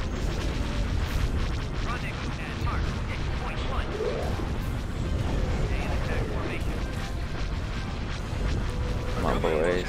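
Laser cannon fire and explosions crackle and boom continuously through a space battle in Star Wars: Empire at War, with dense overlapping bursts and blasts throughout, mixed with voices talking.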